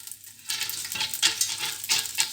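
Popcorn ingredients being stirred together in a pot, with repeated scraping strokes and soft sizzling in a steady rhythm, close and alone.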